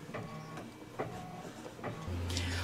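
A home embroidery machine running a basting stitch around a hoop, a steady close mechanical whir with rhythmic needle ticks and a louder hum near the end, no talk.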